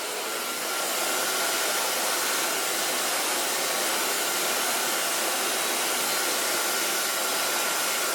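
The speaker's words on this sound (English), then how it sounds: "Gonna use my Theo Knoop blow dryer." A Theo Knoop blow dryer drying hair, a loud steady whooshing roar of airflow, close and unbroken throughout with no talking.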